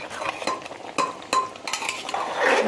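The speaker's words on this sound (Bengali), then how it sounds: "ভালো করে এবার কষিয়ে নেব একটু এদিক ওদিক" Pieces of mutton being stirred in a pan, with close, repeated scraping and clinking of a utensil against metal over a faint sizzle, busy and irregular with no voices.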